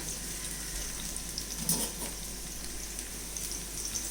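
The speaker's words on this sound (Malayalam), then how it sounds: "2 മിനിറ്റും കൂടെ എണ്ണയിൽ കിടക്കട്ടെ മാങ്ങ." Mango pieces fry gently in oil in a pan for a mango chilli masala, giving a faint, steady sizzle with a brief stir-like clatter midway and no voices.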